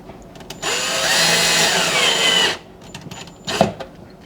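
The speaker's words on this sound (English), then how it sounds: "It's so much easier to screw that block of wood right into those pilot holes." A power drill drives a screw into a wood block through a pre-drilled pilot hole during a kitchen cabinet grow-light install, whirring steadily for about two seconds before stopping, followed by a brief clunk.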